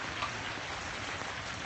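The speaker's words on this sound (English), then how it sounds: "It's raining in LA." Hard rain falling in the San Fernando Valley during a thunderstorm, a steady even hiss of rain, moderately faint and unbroken, with no voices or thunder audible.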